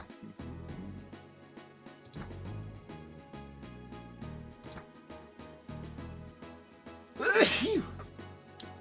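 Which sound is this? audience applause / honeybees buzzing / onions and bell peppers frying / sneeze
sneeze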